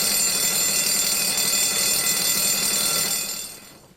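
A ship's emergency alarm sounds as a continuous, loud, high-pitched ringing tone that holds steady for about three seconds and then cuts off.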